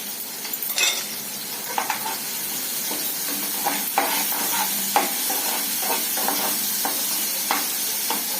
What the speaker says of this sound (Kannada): ಬೆಳ್ಳುಳ್ಳಿ ಚೆನ್ನಾಗಿ ಫ್ರೈ ಆಗತ್ರಿ ಫ್ರೈ ಆಗತ್ತೆ